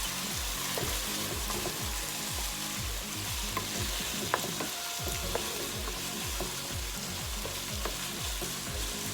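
Green onion whites stir-fried in a hot pan for Thai cashew chicken: a steady, loud sizzle runs throughout, broken by rhythmic scraping strokes of a spatula tossing the food, close up, with no talking.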